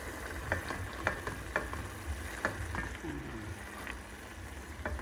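Wine is stirred into a simmering mushroom ragu on medium heat, making a steady low sizzle with a series of light spoon taps and scrapes against the pot, close and moderately quiet.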